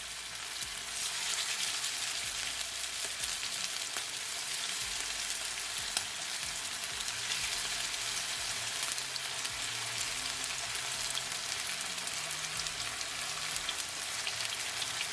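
Chicken stir-fry pieces frying in a hot pan on a medium to high stove, a dense, steady hiss and crackle of sizzling oil sustained throughout without talk.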